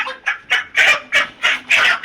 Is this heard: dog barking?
no